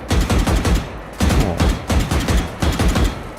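Skinned rifle in the shooter Valorant fired in repeated fast automatic bursts, each shot a loud, heavy, metallic crack, with three or four sharp bursts separated by short gaps.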